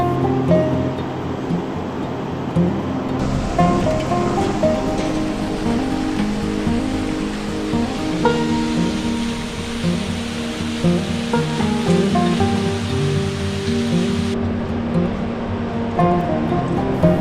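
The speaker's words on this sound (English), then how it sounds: "And that is the Dudkosi River." Dudh Koshi river flowing in Nepal, a steady broad rush of water close by that continues without a break and without talk.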